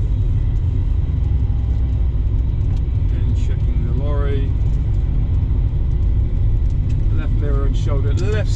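A car drives around Millbrook Roundabout in Southampton with a constant low engine and road rumble heard from inside the cabin, while someone talks over it.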